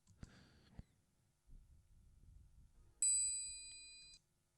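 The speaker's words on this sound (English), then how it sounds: "Some light triangle hits." Light triangle hits on an isolated track from a Christmas pop song multitrack: a brief faint strike early on, then a clearer metallic ding that rings and decays for about a second, both quiet over a low background rumble.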